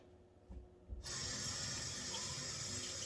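A faucet gushes into a sink as dyed yarn is rinsed, starting suddenly after a second of quiet handling clunks and then running as a steady, full hiss of falling water, fairly close.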